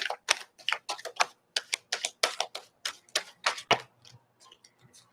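A deck of cards is handled and shuffled close by in quick, crisp clicking bursts, an irregular run of sharp taps that thins out toward the end, with no talk over it.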